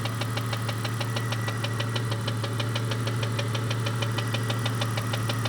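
A Jeep Cherokee with the 4.0 engine idling with a rapid, even ticking lifter noise, a steady metallic clatter over a constant engine hum, close up and alone.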